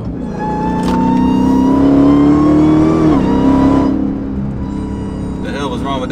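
A 1,000 hp Dodge Demon Charger accelerating hard, its loud engine rising in pitch for a few seconds before easing off, with a voice speaking over the end.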